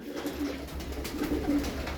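Pigeons coo softly in low, repeated throaty calls, several birds close by over a quiet background.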